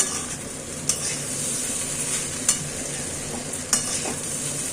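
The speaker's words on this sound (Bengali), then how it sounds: "সেই সাথে বাদাম আর আলুগুলো আমি মিশিয়ে দিচ্ছি।" Peanuts and potatoes are stirred into flattened rice frying in a pan, a steady sizzle broken by three sharp scrapes or clacks of the spoon at roughly even intervals.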